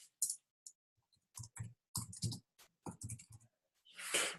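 Keys tapped on a computer keyboard in short irregular bursts of close clicks, with brief pauses between the strokes and a longer rattling run at the end.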